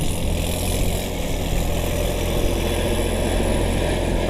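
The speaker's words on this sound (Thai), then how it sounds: "L36 ชุดทโบยกคันเร่งดัง เสียงก็ประมาณนี้นะครับ" A Kubota L36 tractor engine fitted with a turbo kit runs steadily and loudly up close, a continuous heavy engine drone with no talking.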